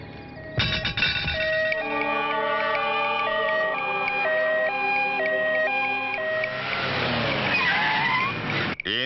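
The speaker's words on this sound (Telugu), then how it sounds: "ఇవి మినిస్టర్ గారి బళ్ళు, అది అంబులెన్స్." An ambulance siren in a Telugu movie scene wails in a steady two-tone up-and-down pattern for several seconds over traffic noise, then fades into a rushing wash of sound.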